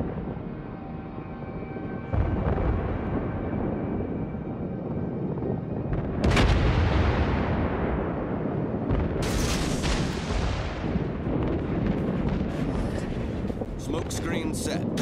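Warships in World of Warships fire naval artillery, heavy booming salvos over a continuous battle rumble, with sharp loud blasts landing repeatedly in the second half.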